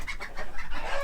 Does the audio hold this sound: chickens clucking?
yes